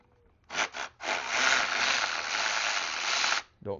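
A ratchet loosening throttle body bolts on a Chevrolet Impala, two short clicking bursts followed by a long steady ratcheting run up close, then a brief knock at the end.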